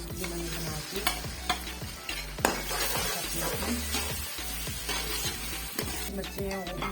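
Ginger garlic paste frying with browned onions for fish curry, a constant sizzle under repeated spoon scrapes and clinks against the pot, close and busy.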